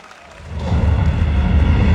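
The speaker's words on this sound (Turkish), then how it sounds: "Yaşar sonrasında alkışlar İsmail Palta için." Crowd applause at the Adana 1954 FK football club season opening ceremony, a dense wash of clapping that swells from quiet to loud and holds steady.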